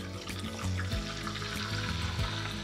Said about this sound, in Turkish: 1 yemek kaşığı tereyağı ocakta eritiyorum.